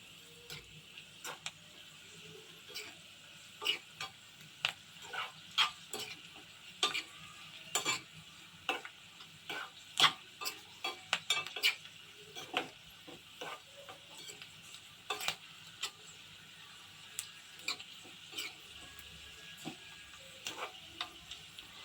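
Vermicelli (seviyan) roasts in a pan on a low flame, stirred steadily: soft scraping ticks and clicks repeat irregularly over a faint, continuous sizzle, close and fairly quiet.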